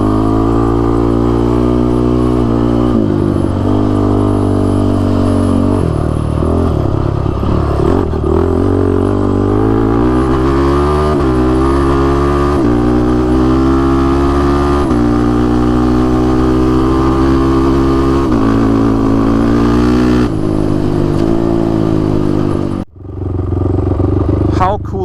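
An adaptive ATV built for amputee veterans runs steadily after a carburetor rebuild and tune, its engine a loud, even drone that holds for about 23 seconds, with faint speech over it, before dropping off abruptly near the end.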